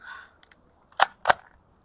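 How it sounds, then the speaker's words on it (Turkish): Two sharp pistol shots fired outdoors at a steel target, about a quarter second apart, loud and close after a brief quiet lead-in. "Şimdi tabancayı deneyelim bakalım."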